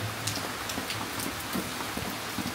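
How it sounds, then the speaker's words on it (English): Steady rain falls in Sidemen, Bali, a dense continuous patter of drops close by with scattered louder splashes and no voices. "I've been peacefully enjoying the rain"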